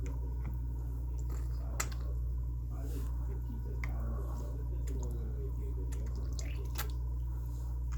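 A small squirt bottle squishes and drips liquid into the cells of a mini lead acid battery, soft wet squirts and clicks over a steady low electrical hum.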